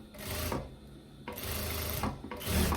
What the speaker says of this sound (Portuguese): agora, eu vou passar a costurinha de reta aqui